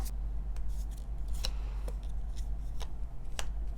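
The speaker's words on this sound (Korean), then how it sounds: "추가 카드 뽑아볼게요." Tarot cards are shuffled and drawn, giving soft rubbing and a few crisp snaps and flicks of card stock over a low steady hum, quiet and close with no talk.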